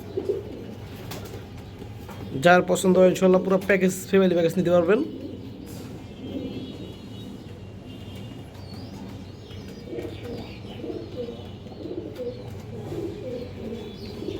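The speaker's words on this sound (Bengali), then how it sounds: "এটা একটা বেজি লাইনের কবুতর" Bezi-line and silver-line pigeons in a large collection coo in a brief, pulsing burst lasting a few seconds, set against steady background murmur while someone talks nearby.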